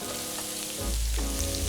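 Butter-based sauté of onions, celery, carrots, mushrooms and garlic in a pan, a quiet stirring rustle that breaks into a louder, steady sizzle as the vegetables are added.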